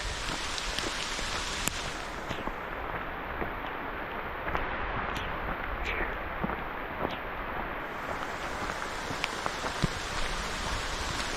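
Steady downpour drenches a trail during a 100-mile ultramarathon, a dense continuous patter of raindrops near and constant for several seconds, with scattered sharper drips and no voices.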